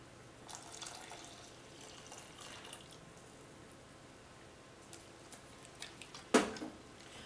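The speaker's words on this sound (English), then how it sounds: "Now it's time to add the 3/4 cup of water to the 2/3 cup of whole wheat flour, salt, pepper," Water is poured into whole wheat flour mixed with salt, pepper and sesame seeds for cracker dough, giving a soft, steady trickle with a sharper splash near the end.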